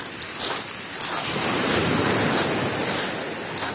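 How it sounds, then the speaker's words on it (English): Ocean waves breaking on a shore, a loud continuous wash of surf with a surge of spray near the start and a steady roar throughout. "Listen to the amazing waves."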